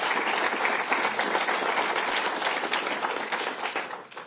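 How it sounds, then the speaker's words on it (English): Dense applause from an audience at a University at Albany event where the Governor is speaking, a steady wash of many hands clapping that fades slightly toward the end. "Let's give a round of applause."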